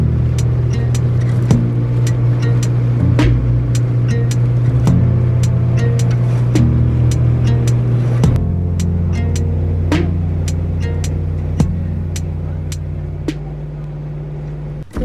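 A tour boat motor drones steadily during a 45-minute ride on a lake toward Visovac in Krka National Park, Croatia, with a constant low engine hum, a slight shift in pitch partway through, and scattered clicking and knocking noises on top.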